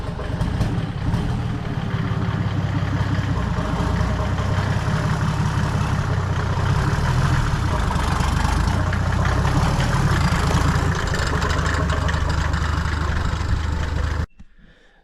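A Chevrolet C10 pickup fitted with a Mercedes engine idles steadily with a low, even rumble, running on its own for around fourteen seconds before cutting off abruptly.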